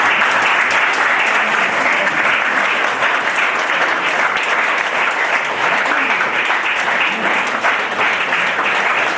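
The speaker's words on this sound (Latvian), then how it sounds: "Jūs visi esat pelnījuši ļoti lielus aplausus." Loud, sustained audience applause filling the hall at a concert-style event with a choir, dense continuous clapping without pause.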